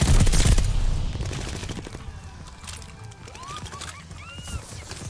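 Rapid gunfire bursts in the video game Call of Duty: Vanguard, loudest at the start and then continuing as scattered shots and crackling effects under the game's background noise.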